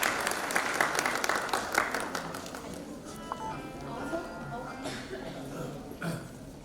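Audience applause at a college foundation day event, a dense crowd clapping that swells loud at first, then settles into steadier clapping with voices mixed in.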